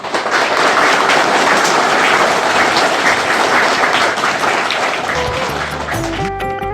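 An audience at a charity clothing-donation ceremony for children in Raiganj claps in a dense, sustained round of applause that fades near the end as music begins.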